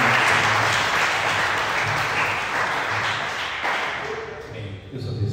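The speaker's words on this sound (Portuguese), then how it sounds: "Uma salva de palmas." A church congregation breaks into sustained applause, a dense wash of many hands clapping steadily at close range and fairly loud throughout, with faint voices mixed in beneath the clapping.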